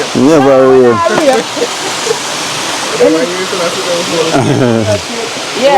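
Nonsuch Falls waterfall in Jamaica pours down in a steady, loud rush of water that fills the whole clip while people talk over it.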